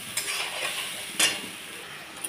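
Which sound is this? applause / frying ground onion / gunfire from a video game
frying ground onion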